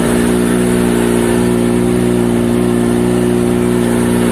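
A Kawasaki ZX25R motorcycle fitted with a Prospeed Viper exhaust, dB killer still installed, runs with a steady, loud, droning engine note with layered low harmonics and no clear rise or fall.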